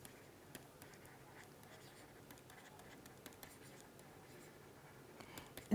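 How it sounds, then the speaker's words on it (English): A pen scratches across paper in short, faint strokes during a lecture on dissipation, soft intermittent scribbling close by with a quiet room hiss. "Let me just write."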